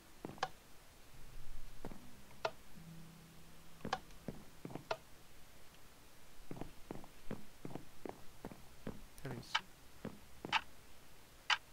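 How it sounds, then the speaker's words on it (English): Clock ticking in the Minecraft video game, faint sharp ticks with a low tone early on, then a quicker run of clicks in a quiet, dark room, no speech. "I like the clock up there."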